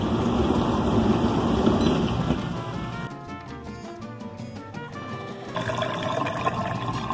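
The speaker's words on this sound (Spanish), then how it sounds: "Ya está desaguando." A dishwasher with water pooled in its bottom drains after its cycle is cancelled; a loud gurgling, rushing flow with a pump hum that steadies into a humming drone midway, then grows noisier again, with no talking.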